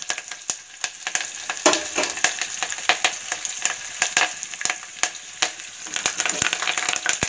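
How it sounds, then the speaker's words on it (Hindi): Curry leaves crackle and sizzle as they drop into hot oil for a drumstick dal, a dense run of sharp pops and spitting over a steady frying hiss, close and fairly loud, with no talking. "अभी हम इसमें करिया पत्ता डाल देंगे।"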